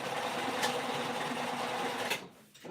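A sewing machine runs steadily through thick fabric while a winter crescent bag is sewn, a continuous close whirring hum that stops near the end.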